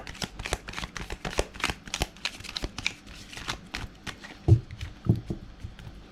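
Tarot cards are shuffled by hand in a close series of quick riffling and flicking bursts, soft to moderate, followed by a few louder taps as cards are set down, with no speech.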